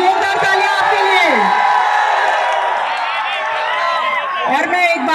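Loud applause and cheering from an enthusiastic live audience at an outdoor Sunday fun-day show in Hyderabad's Old City near Charminar, dense clapping mixed with whoops and shouts sustained throughout, with voices calling out over the crowd.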